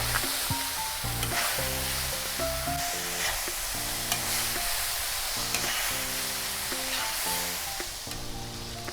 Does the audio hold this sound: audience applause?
no